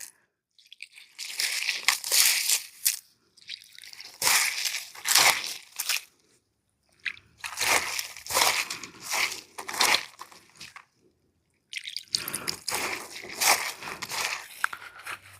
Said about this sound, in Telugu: అటుకులు అయితే బాగా కడిగామండి